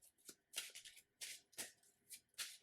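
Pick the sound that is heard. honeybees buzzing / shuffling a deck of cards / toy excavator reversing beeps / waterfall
shuffling a deck of cards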